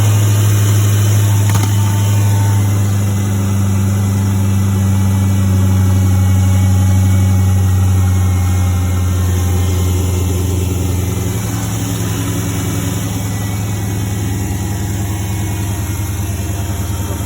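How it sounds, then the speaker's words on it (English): A 2019 Dodge Charger Hellcat engine runs steadily at idle after a 180-degree thermostat install, giving a loud, constant low drone with no speech over it. "I will do a test run on the engine temps after I get it installed."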